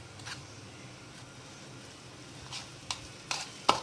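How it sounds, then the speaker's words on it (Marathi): Egg batter being stirred in a bowl for egg fritters, a soft steady scraping swirl near the mic with a few sharper clinks of the spoon against the bowl toward the end. "आता आपण पूर्ण टाकूया आणि मिक्स करायचं"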